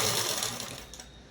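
A sewing machine stitches dress fabric in a steady, fast whirring run, close and continuous, with no voices.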